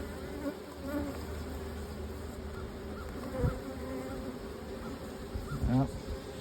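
Honeybees hum steadily at an open long hive, a dense close buzzing that fills the whole stretch, with a few louder swells as individual bees pass near.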